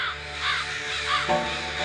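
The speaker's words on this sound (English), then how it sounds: "the crows cause a ruckus when they see the mask." Several harsh crow caws ring out in quick succession, fairly close and loud, with a brief pause between bursts.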